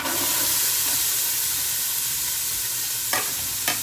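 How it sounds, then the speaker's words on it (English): Chopped yellow onion sizzles and hisses steadily in a hot Instant Pot, with a couple of scraping stirs near the end. "And I'm gonna add 1 yellow onion that I have chopped roughly. It's gonna sizzle for me."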